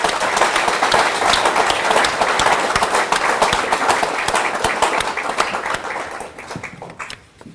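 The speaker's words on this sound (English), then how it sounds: "may I ask you all to put your hands together to applaud the" Audience applauding graduates at a forest technician graduation ceremony in Fiji; loud, crisp clapping from a crowd holds steady, then thins into scattered claps and fades out near the end.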